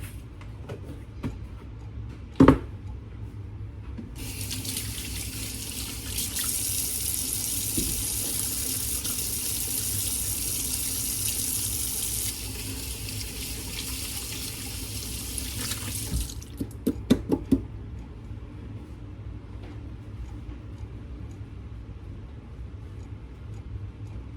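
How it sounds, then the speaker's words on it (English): A kitchen tap runs into a sink while hands are washed, a steady close stream lasting about twelve seconds, preceded by a sharp knock and followed by a few clinks and drips as the water stops. "now let me wash my hands real quick"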